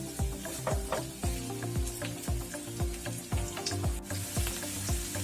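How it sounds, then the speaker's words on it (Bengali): Onions dropped into hot mustard oil for aloo posto, with a steady sizzle and repeated rhythmic stirring scrapes about every half second, close and moderately loud. "তেলটা গরম হয়ে গেছে এরপরে পেঁয়াজগুলোকে আমরা এর মধ্যে দিয়ে দেবো পেঁয়াজটা লাল হওয়া পর্যন্ত ফাঁসতে থাকুন"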